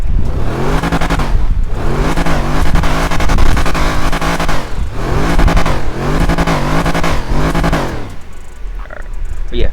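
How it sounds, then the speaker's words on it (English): A powerful Brabus 850 tuned engine in a 2024 Mercedes-Maybach S680 revs repeatedly, rising and falling in deep, loud bursts close by, then settles to a quieter rumble at the end. "that's the Brabus 850 sound"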